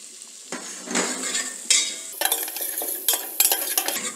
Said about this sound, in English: And we'll sauté these over medium heat.